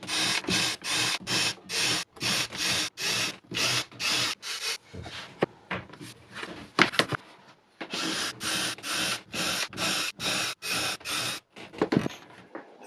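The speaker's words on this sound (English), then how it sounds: "184 shelf pin holes drilled in about 35-40 minutes." A power drill bores shelf pin holes into wood panels, making a steady run of short, evenly spaced whirring bursts with a brief pause midway, loud and close with no talking.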